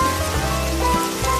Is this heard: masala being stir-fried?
no